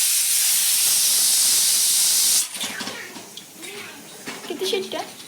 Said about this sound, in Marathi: डाळ भाताचा कुकर लावला आता मी.